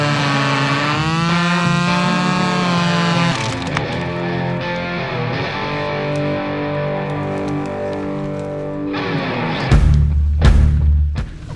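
A somewhat dull chainsaw cuts through a fallen tree blocking an off-road track in Romania, its engine droning loud and steady with pitch shifts as the chain bites, then a heavier rough burst near the end.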